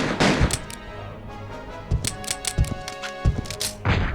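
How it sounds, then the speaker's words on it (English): Gunfire in the Resident Evil video game, a series of sharp shots scattered irregularly over a steady background hum, with a few louder bursts near the start and end. "We can hear gunshots."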